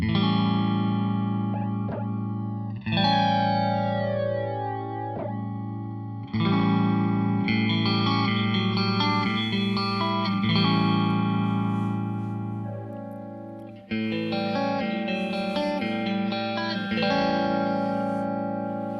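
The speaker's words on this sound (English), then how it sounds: "So frozen flanger for that one." Electric guitar through a frozen flanger, comparing a Kemper Profiler mod effect with an Electric Mistress, rings out in sustained chords with a static, filtered comb-like sweep, loud and alone, restruck a few times.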